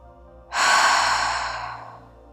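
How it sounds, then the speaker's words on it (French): A single deep breath exhaled through an open mouth during a relaxation exercise, a soft airy whoosh that swells quickly and then fades slowly over about two seconds, close and alone. "inspirer par le nez et expirer bouche ouverte"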